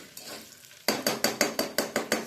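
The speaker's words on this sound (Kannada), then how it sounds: "ಈಗ ಆನಿಯನ್ ಚೆನ್ನಾಗಿ ಫ್ರೈ ಆಗಿದೆ." Onions fry in a pan for bisi bele bath, a soft sizzle followed by about eight regular, fairly loud scrapes of a spoon stirring, with no talk.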